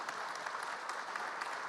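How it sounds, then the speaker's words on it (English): Applause from the audience at a conference panel on transforming financial services with AI, a soft, even patter of many hands clapping at a distance. "I think you should call for a big round of applause for the audience"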